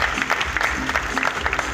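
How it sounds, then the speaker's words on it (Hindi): An audience at a real estate developers' conclave in Indore stands and claps to welcome a national team, moderately loud clapping with a steady pulse throughout the short stretch. "मैं चाहूंगा सारे लोग खड़े होकर तालियां बजा के हमारी टीम का स्वागत करें, नेशनल टीम का।"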